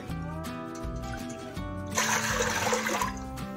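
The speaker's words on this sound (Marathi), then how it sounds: "2 वाट्या पीठ आहे तर 4 वाट्या मी पाणी टाकत आहे।" Water is poured into a cooking pot to make rava kurdai, a brief rushing splash that swells near the end after some quieter background tones.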